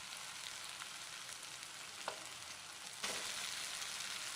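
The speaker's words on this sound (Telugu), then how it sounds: "అల్లం వెల్లుల్లి ముద్ద పచ్చివాసన పోయే వరకు వేపుకోవాలి." Ginger garlic paste fries in a pan with a steady, soft sizzle throughout. Occasional scrapes of stirring break in, and the sizzle grows a little louder near the end.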